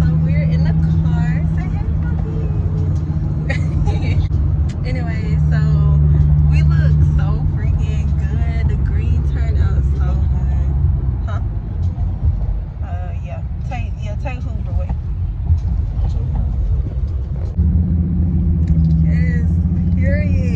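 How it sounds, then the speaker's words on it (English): Inside a moving car, a low steady engine and road rumble runs throughout while people talk and chatter over it. "So we're in the car."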